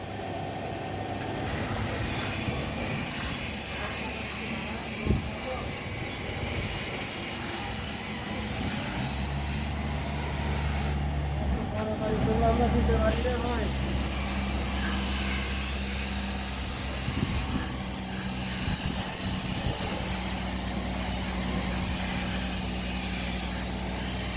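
Spray gun at work touching up the paint on a white Toyota Corolla during colour repair, a steady, continuous hiss of air and paint lasting throughout with a brief break in the middle, fairly loud and close.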